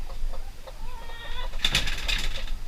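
Chickens kept in a converted trailer coop cluck and murmur at close range, with a louder burst of squawking flaring up partway through.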